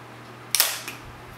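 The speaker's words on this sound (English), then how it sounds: "You may not have even seen the shutter open and close, but it did" A camera shutter firing at 1/500 second gives one sharp, close mechanical click followed by a fainter second click, alone against a quiet background.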